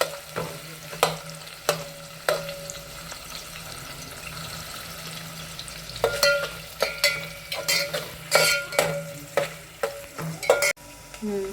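Onion browning in hot oil with whole spices added for a village-style masala pulao, a steady sizzle broken by repeated scraping stirs against the pan, growing busier and more rhythmic in the second half, with no talking.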